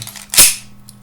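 A Baikal MP654K pistol fires once, a single sharp, loud crack with a quick decay, heard on its own.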